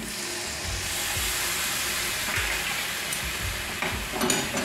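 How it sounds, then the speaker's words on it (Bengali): Hot water going into a pan of frying prawn rezala, giving a steady hissing sizzle punctuated by low thumps and stirring knocks, close and fairly loud. "এই দেখো আমি গরম জল দিচ্ছি"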